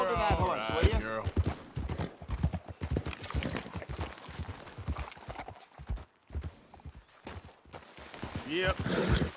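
Rhythmic clip-clop of horse hooves in Red Dead Redemption 2 moving at a steady pace, heard under people talking.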